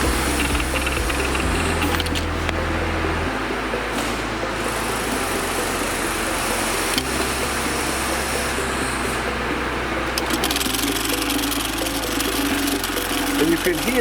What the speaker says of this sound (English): you can hear, as the machine's running, it's got a constant same sound, very smooth